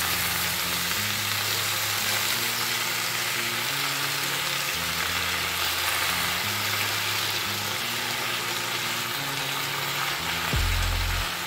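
A hilsa fish head ghonto frying and being stirred in a pan. A dense, loud hiss runs throughout over a low steady hum, with a sharp clunk near the end and no speech.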